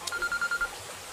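A telephone rings with a short series of repeated electronic pulses, a steady ringtone over quiet room noise, fairly faint and close.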